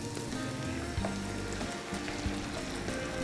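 Cream poured into a hot pan of Tuscan chicken, the pan hissing with a steady, dense sizzle and a few soft clinks and knocks from the pan, close by.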